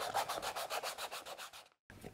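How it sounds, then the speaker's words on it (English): Rhythmic scratchy sanding strokes on a hard plastic rifle stock, steady aggressive back-and-forth rubbing that stops briefly near the end, then resumes. "Deep scoring like this around the edges and aggressive sanding will really help"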